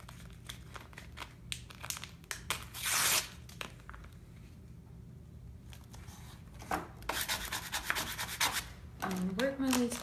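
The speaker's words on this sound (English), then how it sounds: "And just peel off the bottom." Backing paper being peeled off an adhesive vinyl sheet during a craft project, a close, continuous crinkling and tearing rasp that comes in bursts and pauses, with some handling rustle between pulls.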